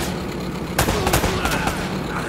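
Gunfire in the video game Uncharted: a quick volley of several sharp, close shots cracks over a constant background rumble of ambient noise, without any talking.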